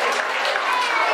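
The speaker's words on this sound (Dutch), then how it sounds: "Gejuich voor de scheidsrechters." A crowd at a tournament cheers and applauds for the referees, a brief, dense, noisy burst of clapping and voices.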